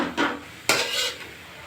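Metal spoon scraping and clanking against a pan while rajgira greens are stirred with salt for a North Karnataka palya; two distinct stirring strokes, close and moderately loud, with no talking.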